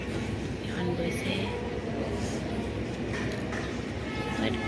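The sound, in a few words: train passing at Lakhimpur railway station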